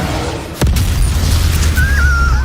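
A Confringo spell explodes in the game Hogwarts Legacy with a sudden loud blast, followed by a sustained deep rumble and a thin whistling tone. The sound is close and fills the scene, with no speech over it.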